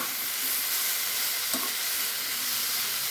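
A vegetarian dish is stir-fried in a pan, with a steady close sizzle and frying hiss throughout and one brief sharper scrape or clatter near the middle; no one speaks.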